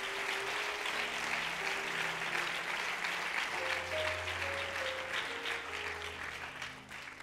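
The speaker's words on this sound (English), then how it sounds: "Would you clap your hands once more?" Church congregation clapping their hands together, a steady, dense wash of applause lasting throughout while soft sustained organ or keyboard tones play underneath, tapering slightly at the end.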